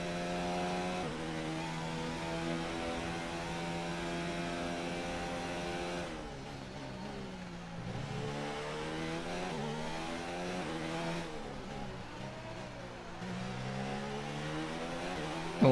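Formula 1 car engine at speed in the F1 2019 racing video game, a sustained high-pitched whine that rises and falls through upshifts and downshifts, steady and prominent with no talk.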